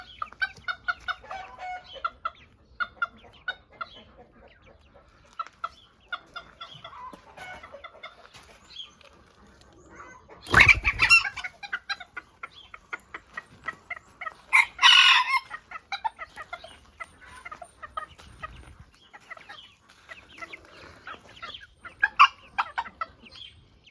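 Ornamental chickens cluck and chatter steadily throughout in a garden, with a rooster crowing loudly twice, nearby, standing out over the flock.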